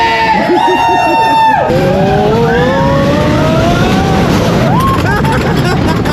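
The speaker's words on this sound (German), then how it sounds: "You put your hands up to the sky, but never out to the sides. Yeah, roller coaster!" Riders on the Great Scenic Railway roller coaster at Luna Park in St Kilda, Melbourne, let out loud whoops and screams over rumbling track noise and rushing wind.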